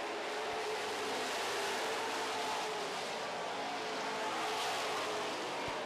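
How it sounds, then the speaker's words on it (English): Super stock race cars roar around an oval track in a steady, dense wash of engine noise, the pack holding a constant loud drone with brief swells as cars pass close. "The top 6 cars setting quite a pace here."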